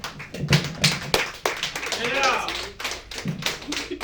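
Audience applause for comedians at an American Legion hall, scattered claps and taps in uneven bursts, near and moderately loud, with a voice speaking briefly in the middle.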